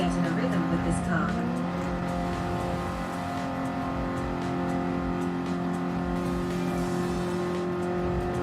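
BMW race car engine in Gran Turismo 7, a steady droning engine note with harmonic whine held throughout, with a person talking over it.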